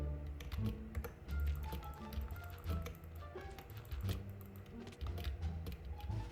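Someone types quickly on a computer keyboard during a Minecraft game, a soft, rapid patter of key taps under a low background hum, close and fairly quiet.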